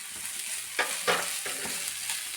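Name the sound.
boiled cassava frying in pan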